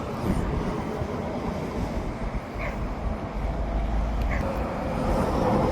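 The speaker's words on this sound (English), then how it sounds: "Train came back, I'm pretty sure" A Mark 3 SkyTrain pulling into the Trop yard, a steady low electric rumble and rolling wheel noise heard from nearby, continuous and gradually swelling with no speech.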